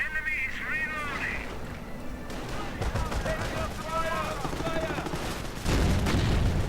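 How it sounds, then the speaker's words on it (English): Video game battle with a Panther tank opening fire on commandos, loud steady bursts of gunfire and booming shots filling the scene while a commentator talks over the action. "Panther moving in, opening up on these commandos."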